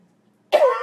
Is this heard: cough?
yes